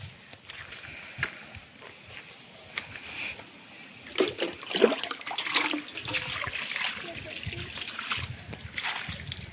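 Water trickles and splashes as someone washes their feet at a spot set aside for removing sandals, with irregular splatters that grow louder midway, heard close with faint background activity.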